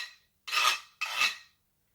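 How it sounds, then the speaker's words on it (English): Two long rasping scrapes on a guiro, separated by a brief pause, each one bright, dry and close, with some silence before and after. "it makes this scrapey sound"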